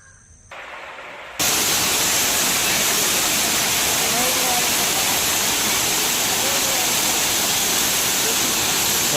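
Steady, dense rushing water roars loudly and continuously at Kothapalli waterfall, after a brief quieter start.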